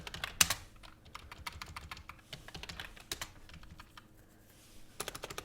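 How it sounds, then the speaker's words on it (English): Steady typing on a computer keyboard during C# game coding, with quick close-up key clicks in bursts and one sharper tap near the start, heard on its own with no talking. "that's what happens when I'm talking and typing at the same time"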